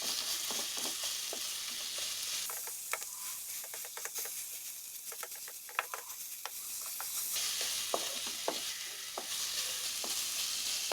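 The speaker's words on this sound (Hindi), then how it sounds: "1 मिनट फ्राई करेंगे और फिर इसको 1 मिनट के बाद ग्रीन चिलीज ऐड करेंगे" Grated radish fries in oil in a pan for Kashmiri radish chutney, with a loud constant sizzle and scattered scraping clicks of a spatula stirring, close up and without voices.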